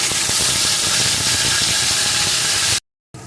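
Spice paste dropped into hot oil in a pan for a small-potato curry makes a loud, steady, close sizzle and hiss that cuts off briefly near the end and then comes back.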